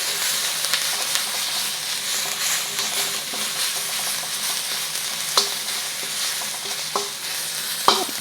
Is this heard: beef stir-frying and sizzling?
yes